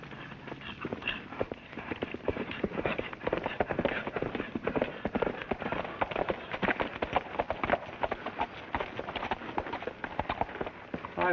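Horse hooves clip-clop in a quick, steady run of hollow knocks that carries on for the whole stretch with no voices, moderately close.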